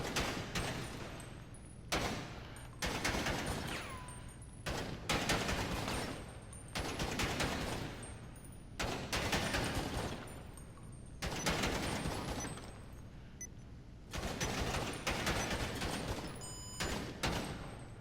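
Gunfire at shooting range targets in GTA 5 Online, heard as a series of loud rapid-fire volleys separated by short pauses, with no talking.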